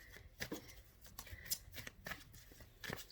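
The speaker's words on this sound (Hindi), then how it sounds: "अब लास्ट कार्ड निकालते हैं" A tarot deck is handled as the last card is drawn, with a run of quiet papery riffles and snaps, close and soft, and no talk.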